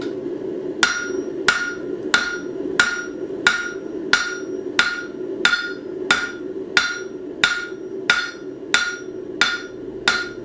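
A hammer striking hot metal on an anvil while forging scrolling tongs: about fifteen loud, ringing metallic blows in a steady, even rhythm, close up with a faint hum underneath and no talking.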